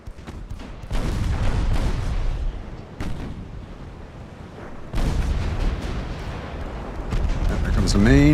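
Naval guns in the video game Ultimate Admiral: Dreadnoughts fire in heavy rumbling booms. Several salvos start abruptly and roll on under a continuous low roar, and a speaking voice comes in at the end.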